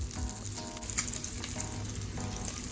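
A salmon fillet frying in hot oil in a pan gives a steady, close sizzle with crackling pops throughout and a few faint metallic tones.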